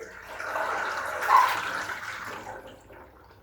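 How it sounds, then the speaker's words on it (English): Water sloshes and swirls inside a washing machine tub left full of water, swelling to a peak and then settling, muffled and fairly quiet. "It's full of water. I can hear it."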